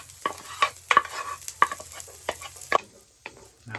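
Onions stirred in olive oil in a pan on a 36-year-old stove over low heat, with a few sharp scraping strokes of a spoon over a soft, faint sizzle.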